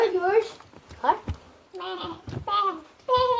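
A voice imitates a sheep's bleat several times in a row, wavering and nasal, with short pauses between the calls.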